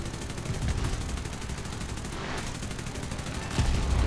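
Video game gunfire in a combat flight scene with bombs, rapid continuous bursts of shots rattling at fairly close range, with a few heavier bangs mixed in.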